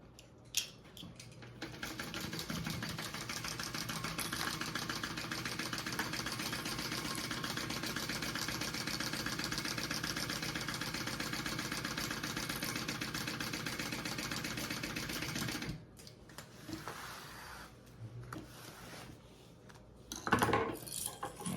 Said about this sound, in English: So I'm gonna sew this together along that bottom edge first.